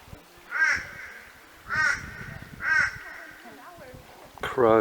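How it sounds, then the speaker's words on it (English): Crows caw in three loud, harsh bursts spaced about a second apart, with another call starting at the end, heard outdoors at Ellery Creek Big Hole in Australia. A voice can be heard faintly in the background. "Crows they are, you can hear them."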